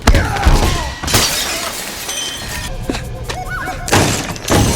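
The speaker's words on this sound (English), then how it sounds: "And here he's crashing through another window." Window glass smashes in a film action scene as a man crashes through it, a loud shattering burst amid heavy thuds, crunches and scattered debris, with further impacts and a second crash near the end over a busy soundtrack.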